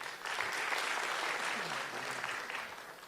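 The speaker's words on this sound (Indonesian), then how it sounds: "Tepuk tangan dulu buat beliau." A studio audience claps steadily at a stand-up comedy competition in Indonesia, a dense, even burst of applause lasting about three seconds, with faint voices mixed in.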